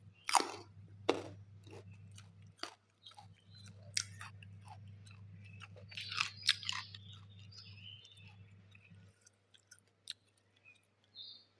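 Someone chews chopped raw carrot in a quiet kitchen, giving repeated crisp crunches and bites at an irregular pace, close and faint over a low steady hum.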